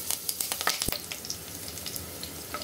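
Curry leaves drop into hot oil and crackle, giving a burst of sharp spattering pops at the start that settles into a quieter, steady sizzle, close but fairly soft.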